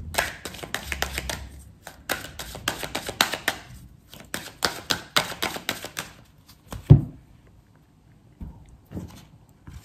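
Tarot cards are shuffled for a cross-spread reading, a rapid run of dry papery riffles and taps, close and crisp, thinning out to a few scattered clicks near the end.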